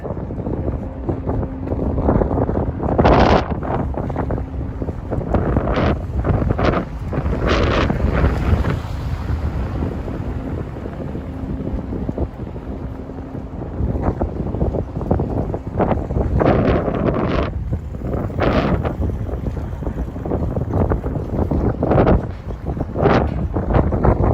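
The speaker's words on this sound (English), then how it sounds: "It's going to be windy" Strong wind in New York City buffets the microphone in continuous roaring gusts, loud and close, with occasional sharper blasts throughout.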